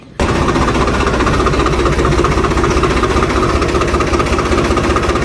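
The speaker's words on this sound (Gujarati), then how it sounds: "તો હવે ટ્રેક્ટરને બહાર કાઢી લઈએ" A tractor's diesel engine starts abruptly and settles into a loud, steady idle with a rhythmic mechanical chug close by.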